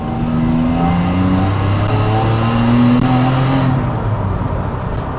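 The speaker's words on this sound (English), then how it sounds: "I love the exhaust note." A naturally aspirated drift car engine revving loud and close, exhaust note sustained with smooth rising and falling pitch sweeps, continuous for several seconds before easing slightly near the end.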